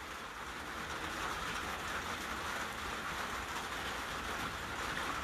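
Steady rain hisses evenly over an Arizona ranch, a dense continuous wash of drops with no breaks or voices, fairly close and uniform throughout.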